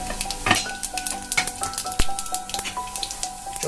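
Cumin seeds sizzle in about two spoonfuls of hot oil in a frying pan while cooking Maggi noodles, giving a close, steady crackling hiss with small pops and light clinks of a utensil.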